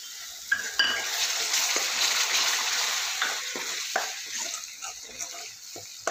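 Onions frying in oil for pav bhaji, a steady loud sizzle with scattered clinks and scrapes as a spoon stirs them around the pan, no talk.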